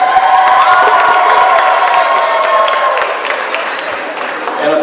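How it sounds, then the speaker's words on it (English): An outdoor holiday tree lighting crowd applauds and cheers for a high school choir director, with clapping mixed with shouts, whoops and children's voices, loud and close. "And of course she gets a better applause than the mayor does"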